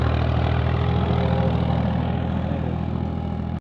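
A tractor engine idles steadily with a low throbbing rumble and light mechanical clatter, close and continuous until it cuts off at the end, with no talk.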